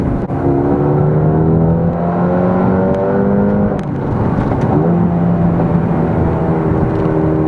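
A Mercedes-AMG A35 hot hatch accelerates hard around a circuit, its engine note climbing steadily in pitch through the gears, dipping briefly at a shift and then pulling strongly again, loud and close throughout with no talking.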